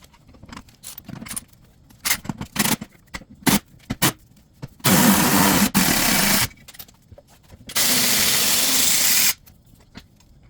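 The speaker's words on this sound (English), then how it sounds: "I've got a Milwaukee ratchet there running it up and down" A Milwaukee cordless power ratchet runs bolts on a Jeep Grand Cherokee engine, giving short whirring bursts and clicks followed by two longer, steady buzzing runs close by.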